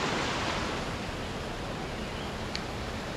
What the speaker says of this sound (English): Let me show you another level of the waterfall.